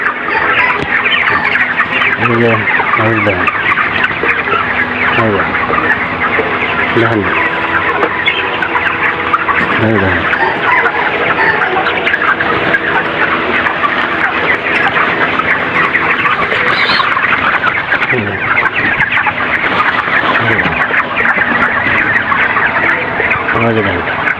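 A large flock of broiler chickens on a poultry farm clucks continuously and loudly in a dense, overlapping chorus with repeated individual calls, and faint voices are occasionally heard beneath.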